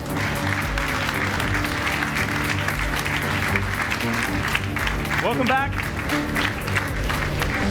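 Lively audience applause and cheering greets judges entering at a London event, dense clapping throughout with a voice speaking over it and a short whistle partway through.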